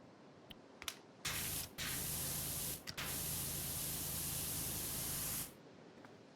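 Pressure washer blasting through a 15-degree nozzle in PowerWash Simulator, a steady loud hissing spray in two long bursts separated by a short break, with no voices.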